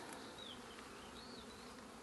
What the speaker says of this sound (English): the bees will all walk up there and go into the hive